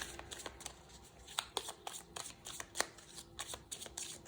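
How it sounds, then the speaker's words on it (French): Tarot cards are shuffled up close, giving a run of soft riffling slaps and flicks in an uneven rhythm, with a few sharper snaps as cards drop, all fairly quiet against a faint background. "il y a plein de cartes qui tombent, je n'en veux qu'une"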